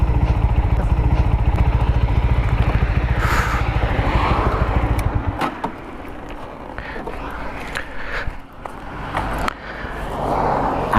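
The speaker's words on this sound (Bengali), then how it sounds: "4V আমার একটা পছন্দের বাইক, দ্যাটস ওয়াই 2বার নিছি" A 4V motorcycle engine runs steadily close by for about five seconds with a low, dense rumble, then drops to a quieter, uneven idle with scattered clatter and small bursts.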